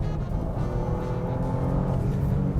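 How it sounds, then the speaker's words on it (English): Engine of a 2022 Bentley Flying Spur Hybrid starting up in sport mode, a steady, harsh low hum and drone filling the cabin throughout, no talking. "If I put it back into sport, the engine will kick on."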